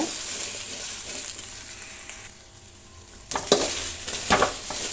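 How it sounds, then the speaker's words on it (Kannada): Cut okra sizzles and spits in hot oil in an old blackened pan, a steady hiss that briefly quiets before spatula scrapes and stirring clatter return, with no talking. "ಬೆಂಡೆಕಾಯಿನ ಹಾಕ್ಕೊಳ್ತಾ ಇದ್ದೀನಿ ಇದನ್ನು ಫ್ರೈ ಮಾಡೋಣ"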